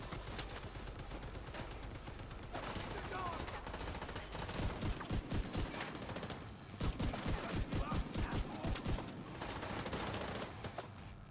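Shotgun blasts from a video game mission crack out in a rapid, rhythmic run of loud, close shots over a dense bed of battle noise, pausing briefly before another burst.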